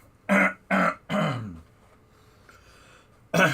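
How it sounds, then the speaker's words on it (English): Three quick, forceful throat clearings in a row, close and loud, then a short pause and one more clearing at the end in a quiet room. "As you can see, I'm always clearing my throat due to allergies."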